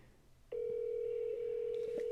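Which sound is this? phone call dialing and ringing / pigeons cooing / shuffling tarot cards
phone call dialing and ringing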